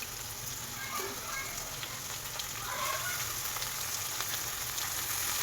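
Tomato pieces and browned onions sizzling in a pan in an Andhra-style meal maker curry, a soft, steady crackling fry with no talk.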